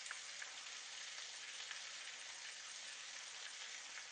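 Steak frying in butter in a pan, a steady close sizzle and crackle running evenly throughout with no voices.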